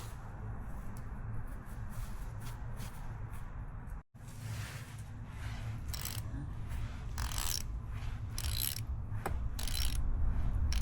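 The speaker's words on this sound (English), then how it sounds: "now putting the oil drain bolt back on" Ratchet wrench tightening the oil drain bolt on a Honda CRF150R dirt bike, heard as close, steady mechanical clicking with a few sharper bursts of ratcheting over a constant background hum, no talking.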